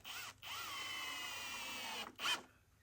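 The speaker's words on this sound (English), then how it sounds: "Starting with some drill work." A power drill whirs in a steady sustained run while assembling foam haunted house panels framed by wood supports, then stops, with a short second burst and a clatter near the end.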